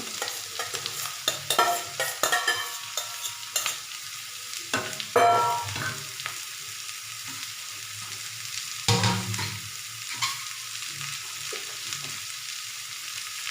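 Beetroot is stirred into garlic and onions already softened in a pan, giving a close, continuous sizzle with bursts of scraping and clattering from the spoon, then quieter frying.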